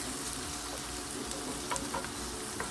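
Onions cooking in a pot for bean soup, a steady, close sizzle with a few faint clinks and stirring taps.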